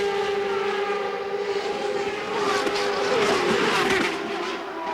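CART race cars lap the Mid-Ohio road course in the 1999 Miller Lite 200, their engines a sustained, high-pitched whine whose pitch rises and falls as cars pass, loud and continuous throughout.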